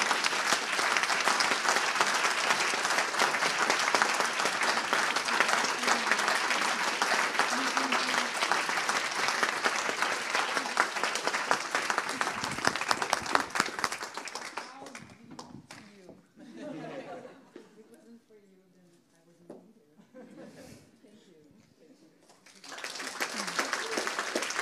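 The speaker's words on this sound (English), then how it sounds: "we want to give you a very warm applause" Warm applause from an auditorium audience, a dense, loud roar of clapping for about fourteen seconds that then fades into scattered claps and murmuring voices before rising again at the end.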